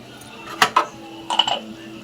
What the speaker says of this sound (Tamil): இதை நல்லா இப்போ கறியை வணக்கி விட்டுக்கலாங்க